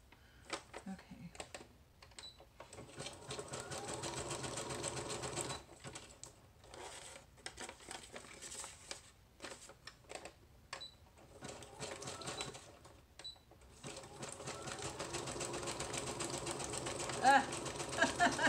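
Sewing machine stitching through paper on a junk journal envelope, running in close bursts of rapid needle clatter separated by short pauses, with a faint voice speaking at times.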